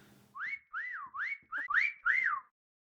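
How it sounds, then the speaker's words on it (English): A rising-and-falling whistle call from the video game Meccha Chameleon, repeated six times in a steady rhythm, clear and fairly close with no talk over it. "you hear the whistle and you're like,"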